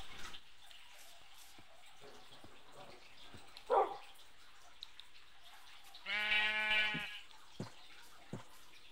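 Sheep bleat in the Minecraft video game, two short bleats, one brief and one longer, over quiet background clicks and faint noise.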